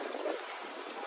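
Rainwater flows through a flooded Dubai street after overnight rain, a soft continuous trickling rush heard faintly and alone.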